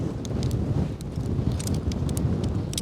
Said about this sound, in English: Beautiful day, slightly windier than forecast